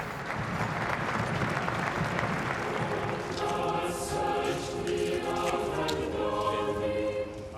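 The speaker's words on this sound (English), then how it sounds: "they gave a round of applause as she arrived at Westminster Hall" A crowd applauds as the Queen's coffin arrives at Westminster Hall, a sustained outdoor ovation with broad, steady clapping and faint background sounds.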